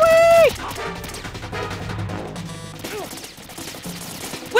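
Dense gunfire and bullet impacts in the video game Metal Gear Solid 2 crackle through a busy game soundscape, with a sustained tone at the start and sweeping effects later, sounding continuous and fairly loud.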